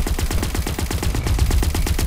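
Rapid automatic gunfire in the video game Crackdown 3 during a multiplayer Wrecking Zone match, a loud, fast, evenly spaced burst of shots running the whole time.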